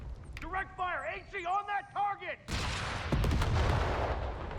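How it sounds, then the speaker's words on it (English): Bazooka and gunfire in the video game Company of Heroes 3 burst out loudly after someone talks, a heavy blast followed by sustained rattling battle noise. "Looks like I'm only firing 1 bazooka out that way."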